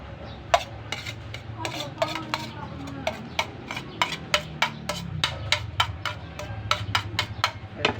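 Ground meat, onion and carrots stirred in a pan with a utensil, giving repeated sharp scraping clicks against the metal in a steady irregular rhythm over a low sizzle, close and clear.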